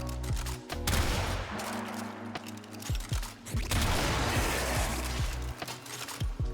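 Rapid bursts of video game gunfire from a Tigris Prime shotgun, loud sharp blasts repeating in irregular clusters over several seconds, with booming impacts and a steady droning background hum.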